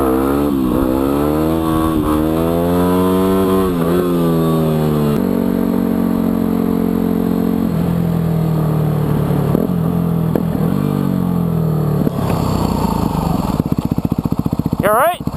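Yamaha WR250R dual-sport motorcycle ridden close up, the engine revving repeatedly through the gears with rising and falling pitch, while a rider talks over the engine noise.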